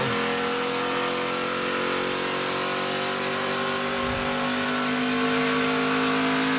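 An ARCA race car engine heard on board at Pocono Raceway, Joe Graff Jr.'s number 77 for Chad Bryant Racing, roars loud and constant at high revs with a steady droning tone and slight pitch shifts.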